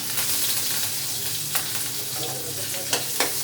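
Curry leaves, chilli and cumin sizzle steadily in hot oil as a tempering for curd rice, a dense close crackle with a few sharper pops near the end.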